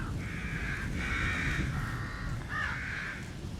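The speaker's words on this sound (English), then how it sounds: "Those crows don't sound like they're here for my well-being." Several crows caw in a row in a video game (The Evil Within), harsh drawn-out calls repeating one after another over a low rumbling ambience.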